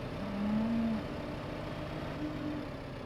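A single cow moos once, fairly clear, then gives a fainter short call, set in a Farming Simulator 2015 cattle field over a low steady ambient hum with no talking.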